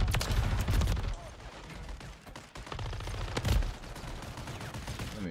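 Shotgun blasts in Call of Duty: Modern Warfare III multiplayer, a series of sharp, loud reports with other game gunfire and effects, some at irregular intervals, under a dense, busy game soundscape.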